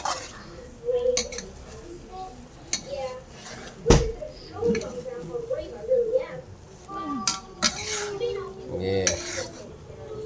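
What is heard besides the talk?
stirring food in a pan while cooking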